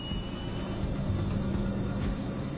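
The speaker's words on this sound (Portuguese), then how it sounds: "A gente ouviu os motores acelerando." Steady low roar of airplane engines accelerating on a runway for takeoff, a continuous rumbling drone with no voices.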